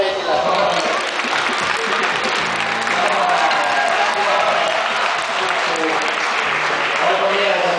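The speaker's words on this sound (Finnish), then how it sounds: "Aplodit Heikille." An audience at a men's shot put competition at Go Expo applauds Heikki, a veteran athlete; loud, continuous clapping and crowd noise hold for the whole stretch, fairly close and without clear speech.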